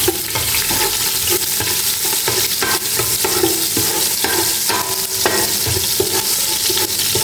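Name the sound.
garlic being stir-fried in a pan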